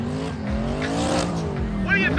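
Mustang race car rounding the last corner at an event: engine roar with sweeping pitch changes and a squealing tire near the end, heard under an announcer's voice.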